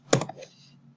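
A brief burst of computer-keyboard typing, a quick cluster of close, crisp key clicks lasting under a second before fading to quiet.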